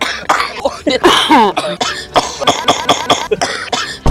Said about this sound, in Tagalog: Inuubo ako ngayon.